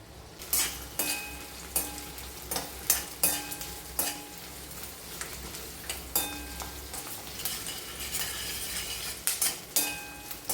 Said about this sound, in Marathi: कढईमध्ये 2 उभे चिरलेले कांदे या तेलामध्ये घालायचे आहेत